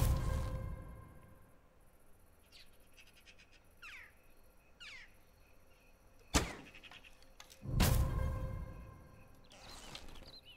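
Arrows thud into a target in Medieval Dynasty, two sharp impacts a second or so apart standing out against quiet outdoor ambience with distant bird and frog calls.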